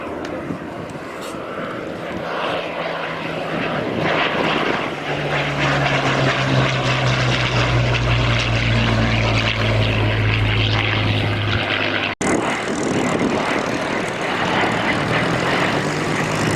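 A Sea Hurricane propeller fighter at the Fly Navy airshow at Old Warden: a loud, sustained engine drone with a deep rising tone passing by, while a commentator talks over it throughout.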